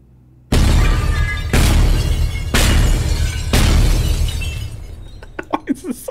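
Loud glass shattering in the puzzle game Boxes: Lost Fragments, three heavy crashing bursts in a row followed by scattered tinkling shards settling, with a voice briefly audible.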